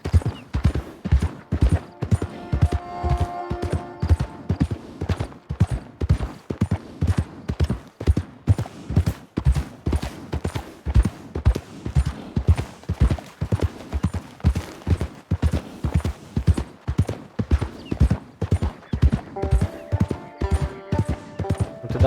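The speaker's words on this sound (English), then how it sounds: "O meu cavalo é pangaré desnutrido" Horse hooves clip-clop steadily in a cowboy video game, a loud regular gait of closely spaced beats that runs the whole length, with brief tonal game sounds near the start and the end.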